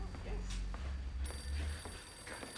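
A telephone rings in a puppet comedy scene, its electronic bell sounding in repeated bursts over low background rumble, with voices partly overlapping.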